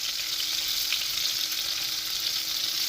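Fresh garlic sizzling in a hot pan alongside browning pork chops for pork chop marsala, a steady, close, crackling hiss of frying with no voices.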